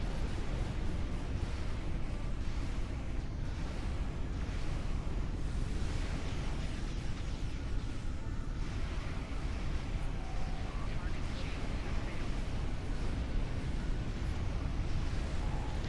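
Steady outdoor breeze buffeting the microphone as a broad, continuous rumbling wash, loud and unbroken throughout with no pauses.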